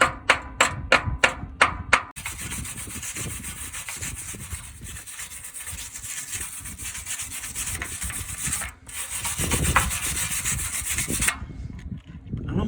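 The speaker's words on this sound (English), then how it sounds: "So I just went around wire brushing all this stuff" Wire brush scrubbing rusty metal on an old trailer, a steady close abrasive rasping that runs nearly continuously, opened by a quick series of separate scraping strokes before settling into sustained brushing.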